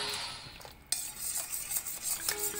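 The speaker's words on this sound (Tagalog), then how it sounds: "Haluin lang ng haluin." A spoon clinks and scrapes inside a cup while milk tea is stirred, giving repeated light metallic taps and swirls at close range, fairly quiet, without speech.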